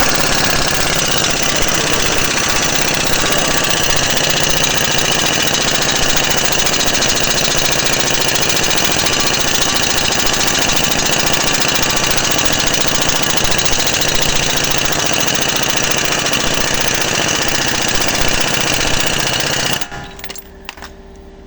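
Pneumatic impact hammering to free a ball joint from the steering knuckle of a Dodge Journey, a loud, continuous rapid rattling that runs nearly twenty seconds before abruptly stopping.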